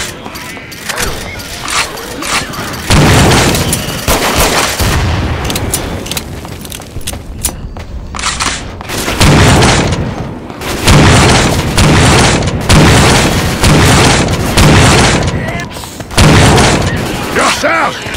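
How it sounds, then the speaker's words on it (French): Grenade blasts and heavy gunfire in Left 4 Dead 2 with a Winchester M1887 shotgun mod, loud repeated booms and rapid shots in dense bursts separated by brief lulls, with players shouting in between. "Grenade!"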